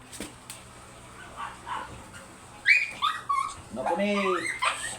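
A Shih Tzu dog whimpers and yips in short, high-pitched whines, close by, with people talking around it.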